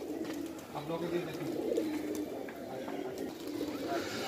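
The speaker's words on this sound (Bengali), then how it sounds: "দর্শক দেখেন ভাইয়ের প্রচুর কবুতর, প্রায় 250-300 কবুতর" A large loft of some 250 to 300 pigeons, high flyers and local birds, coos in soft overlapping murmurs close by, a steady low burbling bed with faint chirps and scattered clicks.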